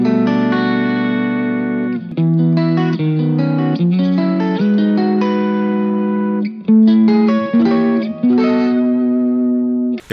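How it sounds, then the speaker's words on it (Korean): An electric guitar plays through a Boss GX-100 multi-effects processor with its Prime Chorus effect, giving shimmering sustained chords and melodic runs, loud and steady with no voices. "코러스 모델 중에서는 프라임 코러스라는 모델이 소리가 아주 좋았습니다."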